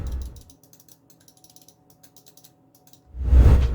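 Rapid series of crisp, light clicks from the Omron switches of a Glorious Model D gaming mouse, close and dry, clustered in quick taps, framed by soft low handling thumps at start and end.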